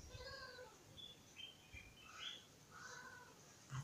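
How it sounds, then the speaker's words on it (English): Bird calls outdoors on a gentle, breezy morning in The Gambia: several short chirps and whistled phrases, fairly faint and at a distance, scattered over a low background hiss with no talking. "I think the bird's out."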